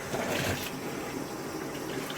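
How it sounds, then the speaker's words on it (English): Hot water runs steadily from a tap into a sink, a continuous soft rushing splash that stays even from start to finish. "I'm just going to run a bit of hot water"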